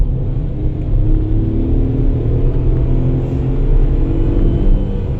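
A small-engine car revs hard toward 6,000 RPM, a loud, steady, close engine roar with dense low rumble that holds without letup.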